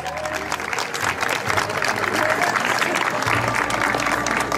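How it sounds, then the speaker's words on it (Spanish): A crowd at a quinceañera celebration applauds, a steady, full burst of clapping that swells slightly midway and stays loud to the end. "Un fuerte aplauso, por favor."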